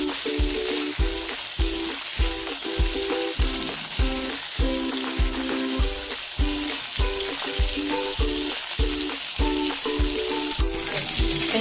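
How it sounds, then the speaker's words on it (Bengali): Mixed vegetables fry in hot oil over a high flame, giving a continuous sizzle broken by regular, evenly spaced stirring strokes about every half second. No one speaks. "তেল গরম হয়ে যাওয়ার পর দিয়ে দিলাম সব কিছু সবজি। এরপর এটা হাই ফ্লেমে একটু ভাজা হোক।"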